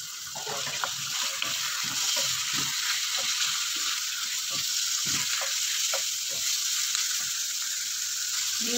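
Filipino ground pork giniling frying with browned garlic and onion in a hot pan, a loud steady sizzle throughout with repeated soft scraping and stirring strokes, close up.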